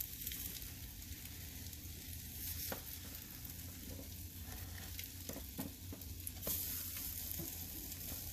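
Cinnamon French toast frying in butter in a pan, a steady close hiss of sizzling butter with a few faint clicks and pops, no voices over it.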